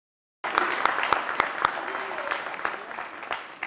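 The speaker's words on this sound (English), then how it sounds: "So let's give a round of applause." Banquet audience at an awards dinner bursts into applause after a brief silence, with a few sharp, distinct claps at first that merge into a sustained wash of clapping, gradually thinning toward the end.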